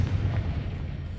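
Confringo explosion spell in Hogwarts Legacy, a short dense low rumbling boom that fills the whole moment, no talking.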